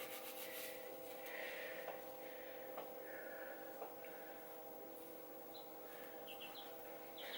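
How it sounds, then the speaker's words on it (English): Hands rubbing silk oil treatment into the ends of hair, a soft steady brushing friction that continues throughout, close and quiet, with faint bird chirps in the background. "rub it into your fingers, and then you just want to rub that into the ends of your hair"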